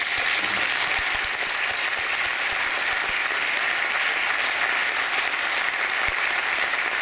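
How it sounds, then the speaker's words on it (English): Sustained loud audience applause at a senior speech event, dense steady clapping from a large crowd throughout. "I would like everyone to give a round of applause for everything number 12 has done for the program."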